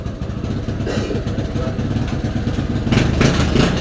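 A tricycle's motorcycle engine with a new sidecar runs steadily at close range while a mechanic checks it, a low chugging idle with light clatter that grows a little louder near the end.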